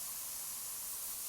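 A steady spray-paint hiss from Spray Paint Simulator, a continuous bright airy rush held evenly at close range for the whole moment, with no voices over it.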